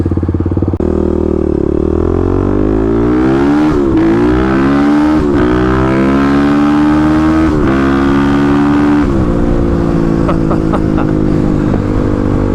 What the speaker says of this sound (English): Oh, how I've missed the brap noises, that thumper sound.